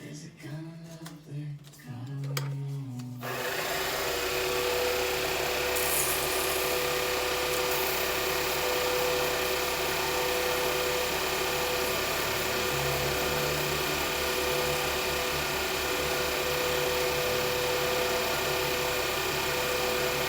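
Pen blank spinning on a lathe while being sanded with fine 800-grit abrasive, a steady continuous whir and hiss that starts after a few seconds of quieter handling noise and runs evenly to the end.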